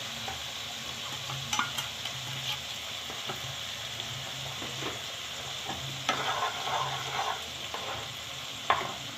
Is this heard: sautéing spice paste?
yes